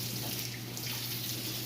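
Hot water runs steadily from a kitchen tap into a plugged sink to rinse dishes, a continuous close hiss and splash with a low steady hum beneath, and no voices.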